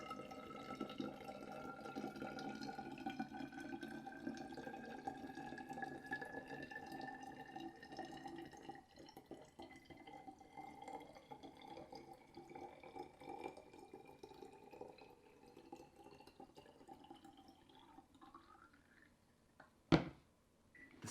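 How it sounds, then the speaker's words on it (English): Water pours steadily through a screen into a container, a continuous liquid trickle with dripping and a rising pitch as it fills, then a sharp knock near the end. "I'm going to pour some water into this"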